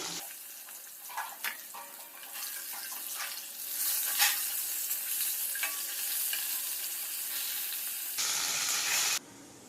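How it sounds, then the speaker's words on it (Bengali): Fried fish in hot oil, cooked crisp and reddish-brown in a Bengali kitchen, crackles and sizzles steadily as pieces are lifted out one by one. The sizzle swells around the middle, and a brief watery rush comes near the end. "মাছগুলো ভাজা হয়ে গেছে, এবার এক এক করে সব তুলে নেব"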